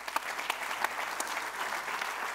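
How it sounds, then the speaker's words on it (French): Steady applause from an audience at an official awards ceremony for a mayors' innovation trophy, a dense wash of clapping with a few sharper claps standing out, fairly quiet and continuous throughout. "on peut encore les applaudir"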